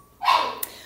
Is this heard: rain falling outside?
no